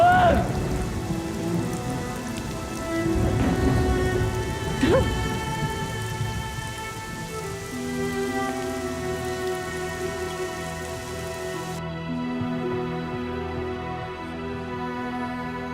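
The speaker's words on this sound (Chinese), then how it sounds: "下雨了，你快去躲躲雨啊" Steady rain pours in a continuous, even hiss, with a brief thump-like rumble early on, and a dense wash of droplets holding throughout.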